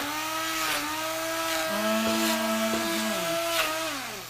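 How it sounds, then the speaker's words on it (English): A kitchen blender whirs at steady speed, a loud motorized drone whose pitch dips and shifts briefly as the contents mix, with no talk. "Do you love that blender?"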